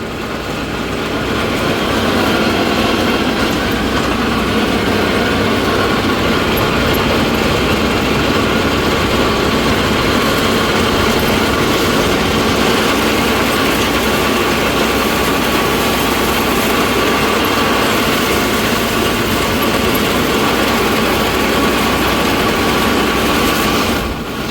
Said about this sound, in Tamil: பார்த்தீங்களா ட்ராப் ஆச்சு, ஆனால் அப்படியே பிக்கப் ஆகிக்குதுங்க இன்ஜின்.